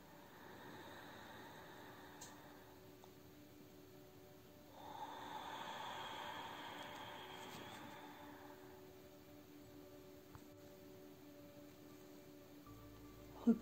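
One forceful, extended exhale at the end of a guided relaxation breathing exercise, a single close, breathy rush of air that swells and then trails off, heard alone over quiet background hiss.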